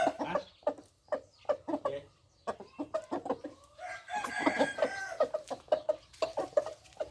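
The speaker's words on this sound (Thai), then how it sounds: "หนึ่งตัวนะครับพ่อพันธุ์ บิลดินเขาเทพของเสี่ยวชยันฟาร์มครับ" Breeding roosters at a farm, with loud, repeated clucking and a drawn-out crow in the middle, heard close and alone in quick, irregular bursts.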